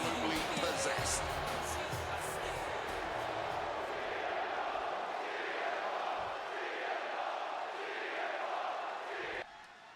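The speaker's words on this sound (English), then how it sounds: "And just listen to this crowd here in Chicago." Roaring arena crowd at a Chicago wrestling event in the WWE 2K26 video game, a loud, steady wall of cheering and chanting that swells throughout, with a commentator's voice over it.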